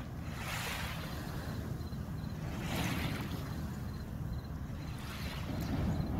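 A boat runs past on open water with its engine and hull wash rising and falling, mixed with wind and waves, fairly loud and steady throughout, no voices.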